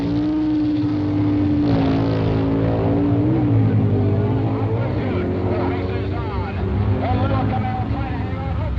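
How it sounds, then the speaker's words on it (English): Powerful Superstock drag racing engines at the 1968 NHRA Nationals roar loudly and continuously, their pitch climbing as the cars accelerate hard down the strip. "Vanke plays catch-up, barely overhauling Booth at the finish line to win the Superstock championship."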